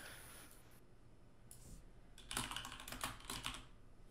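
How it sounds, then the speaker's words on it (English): Fast typing on a computer keyboard, quiet scattered clicks building into a dense burst of rapid keystrokes near the end, heard alone without talk. "You typed it so fast it's like Mr. Krabs walking."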